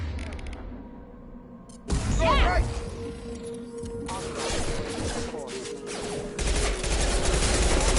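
Rapid bursts of gunfire and weapon fire from the sci-fi shooter game Mass Effect 2, loud and dense through most of the stretch with mechanical clanks and crashes, a quieter lull early on, then a sudden sharp onset of sustained shooting.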